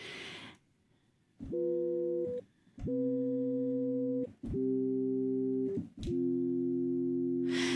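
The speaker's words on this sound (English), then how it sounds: "Okay, so basic sine wave, nice and soft." A soft, smooth synthesizer sine wave tone plays as four sustained notes, each held about a second with short clicky gaps between, quiet and steady.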